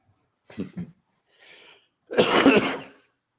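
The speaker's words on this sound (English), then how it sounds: "Hate to cough in everyone's ear." A single person coughs twice in quick succession, then gives a soft throat clear and a louder, harsher cough, close to the microphone in a quiet room.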